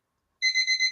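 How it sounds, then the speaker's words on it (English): An alarm clock beeps in a quick run of four bright electronic pulses, starting abruptly after a moment of silence and sounding fairly close. "I thought that was my alarm."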